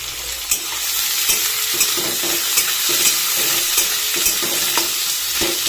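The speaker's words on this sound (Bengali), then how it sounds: "তেল গরম হয়ে গেছে, আমি পেঁয়াজগুলোকে দিয়ে দিলাম।" Onions sizzle in hot oil in a home kitchen while a chicken dish is being made, a dense steady frying hiss with regular clicks of stirring, close up and with no talking.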